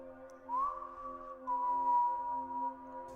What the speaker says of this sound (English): The sound of whistling.